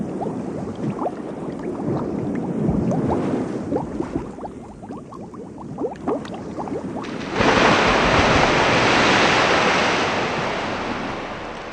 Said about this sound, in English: The sea and the seagulls, the only sound